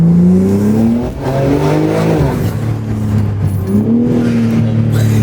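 A BMW G80 M3 engine with a modified exhaust revs loudly and roughly from inside the car, its deep exhaust note rising and falling as it accelerates.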